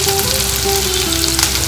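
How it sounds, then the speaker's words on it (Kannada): Loud, steady sizzle of onions frying with kasuri methi in a pan, close up and continuous without pause, with no voices. "ಈರುಳ್ಳಿ ಫ್ರೈ ಆಗ್ತಾ ಇರುತ್ತೆ"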